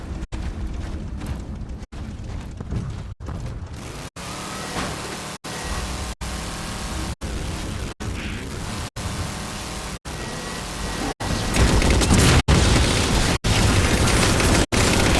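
A big gun fires and explosions go off in the video game Halo, a long run of heavy rhythmic blasts and booms, loud and dense, intensifying toward the end with no voices.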